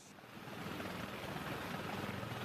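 An AH-1 Viper attack helicopter in flight gives a steady, broad rotor and engine roar that holds loud and constant throughout, with no talk over it.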